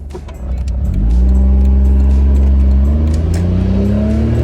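The small engine of an early-1990s Honda Beat kei car idles and then revs up, its pitch climbing steadily, loud and close with no talking.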